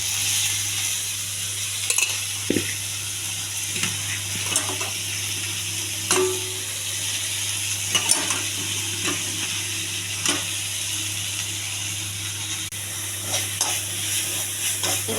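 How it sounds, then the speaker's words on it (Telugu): Leafy amaranth greens sizzle while being tempered in a hot pan, a constant frying hiss with intermittent stirring scrapes and light utensil clinks, close and without talk. "ఇది ఆకుకూర తాలింపు అండి."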